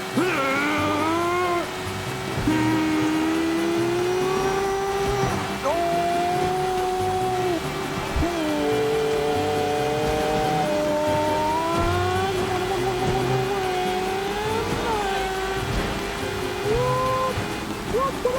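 A car engine in the video game Sleeping Dogs drones and revs steadily throughout, rising and falling in pitch as the car accelerates, with someone talking over it.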